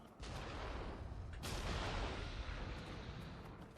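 A heavy blast from a hand cannon in the game Nioh 2, a sharp booming report near 1.5 seconds over a dense, continuous roar of battle noise that rumbles throughout.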